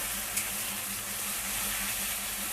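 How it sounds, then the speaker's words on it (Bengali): Ginger-garlic paste fries with onions in a pan for coconut ghugni, giving a steady, moderately quiet sizzle with a faint low hum underneath and one small tap near the start, and no voices. "আমি এইটার মধ্যে এবারে সেই আদা রসুনের পেস্টটা এর মধ্যে আমি দিয়ে দেবো।"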